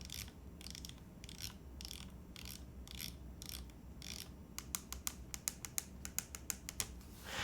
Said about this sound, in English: It's basically like a decked out rotary encoder.